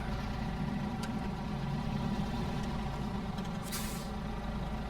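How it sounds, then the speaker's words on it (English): A truck in the video game Snowrunner idles with a deep steady engine drone, and a single short air-brake hiss bursts out near the end as the handbrake is released. "Let's take the handbrake off."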